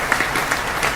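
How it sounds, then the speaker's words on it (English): Brief burst of dense clapping, loud and close, filling the whole second with no other sound over it. "let's give her a round of applause"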